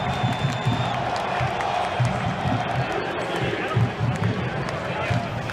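A large, sold-out crowd of about 19,000 soccer fans cheers at Providence Park, a steady roar with swelling whoops, heard under a speaking voice.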